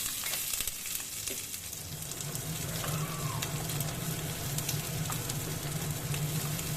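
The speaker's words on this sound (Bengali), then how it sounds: "পেঁয়াজটা আমি খুব বেশি ভাজছি না, এখানে হালকা ভেজে নিচ্ছি।" Chopped medium onion frying lightly in a pan for a Bengali curd pointed-gourd dolma, giving a steady, even sizzle that runs unbroken and moderately close throughout, with no one speaking.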